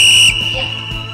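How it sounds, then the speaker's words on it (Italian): A loud, sharp whistle blast signals the start of a work interval in a circuit workout, a steady piercing tone that cuts off after a fraction of a second, leaving a faint tail. "quindi due suoni, il fischietto si lavora"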